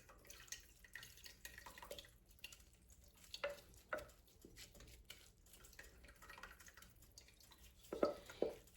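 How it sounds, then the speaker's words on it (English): Lemon balm infusion strained through leaves and dripping into a pot while making lemon balm jelly: a quiet, steady trickle and patter of liquid with a few sharper drips and clinks, heard close and alone with no talking. "I just strain that right into the pot"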